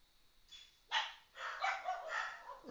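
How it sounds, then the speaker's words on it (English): Several dogs bark at home in short, excited bursts, a brief yip followed by a run of rapid barks, slightly distant and fairly faint. "The dogs are going wild and the kids are home."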